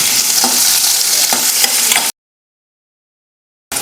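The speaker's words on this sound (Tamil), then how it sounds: "வெங்காயம் வதக்க வேணாம் சும்மா கொஞ்சம் நேரம் வதக்கினாலே போதும்" Onions sauté in a pan, with a loud, close sizzle and repeated stirring scrapes, which cut off abruptly into silence before the frying briefly resumes.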